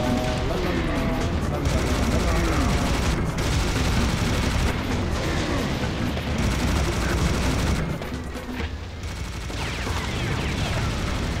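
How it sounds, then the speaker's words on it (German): A minigun rattles in rapid continuous bursts during a Serious Sam HD: The Second Encounter battle, mixed with explosions and chaotic combat noise, loud and dense throughout with a brief lull near the end. "Ich helfe mit der Minigun nach, das ist Teamwork."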